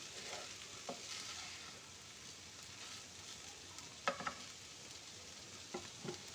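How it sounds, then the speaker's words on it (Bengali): Salt and sugar being stirred into flattened rice biryani in a pan, giving a soft continuous scraping sizzle with a few sharper spoon clinks near the end, fairly quiet and with no talking. "তো নুন আর চিনিটা দিয়ে আমি খুব ভালো করে নেড়ে চেড়ে মিশিয়ে নিয়েছি।"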